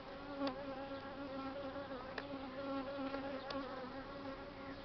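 An angry swarm of bees buzzing close by, a dense steady drone of many wings with a few louder passes near the microphone, continuous for several seconds with no talk.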